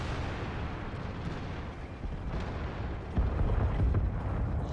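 Tank cannon fire in the World of Tanks video game, an Object 140 medium tank in battle: a dense, rumbling din of booming shots, with a heavier blast partway through and continuous low roar throughout.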